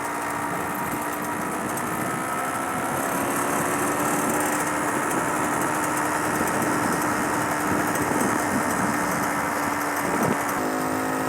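A moped rides through wooded countryside on the Worcestershire–Herefordshire border, and its small engine hums in a steady, high-pitched drone. The sound is close and continuous, with wind noise and no talking.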